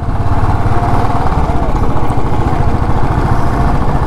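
A motorcycle engine drones steadily on a ride from Puri toward Konark near Chandrabhaga beach, a loud, close, continuous low mechanical rumble with no voices.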